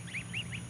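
White geese kept in a pen, one of them in poor condition, give a run of four nasal honks in quick succession, close and moderately loud over a low steady hum.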